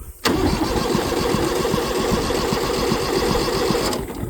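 Kubota B6100 4x4 HST diesel tractor engine cranking after running out of fuel, a steady rhythmic starter churn close and loud for about four seconds, cutting off at the end without catching.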